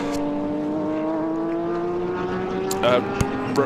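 The Krypton Motorsport Porsche GT race car roars past with a high, steady engine whine that climbs slowly in pitch during qualifying, and a few sharp clicks follow near the end.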